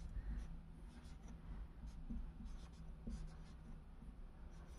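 A cat drags a pen across a paper notebook while drawing hearts, making faint, quiet scratching strokes in short uneven bursts.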